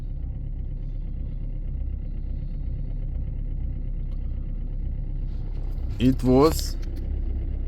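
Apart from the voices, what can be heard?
diesel engine idling after a cold winter start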